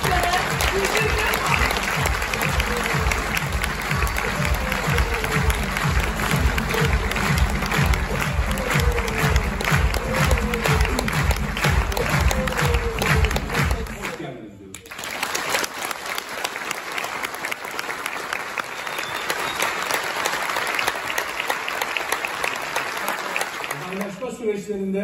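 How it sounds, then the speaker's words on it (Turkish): Loud, sustained audience applause fills a farewell ceremony for a long-serving city mayor in Çanakkale, Turkey, with strong music underneath for the first half before the clapping carries on alone. "güçlü alkışlarınızla kentimizin belediye başkanı Gülgün"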